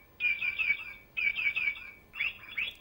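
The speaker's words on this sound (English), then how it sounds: "This young boy is fascinated to the chirping sound of the little bird." A little bird chirps in three quick bursts of bright, high tweets, each lasting under a second and separated by short pauses, close and clear with no talking.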